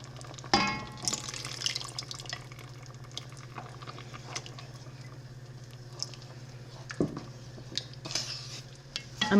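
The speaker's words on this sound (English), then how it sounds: "Mix it up and then pour it in the gravy of my beef tips to make it thick." A flour mixture is stirred into simmering beef tips gravy in a pot, making soft wet sloshing and light clinks against the cookware, with a steady low hum underneath throughout and no talking.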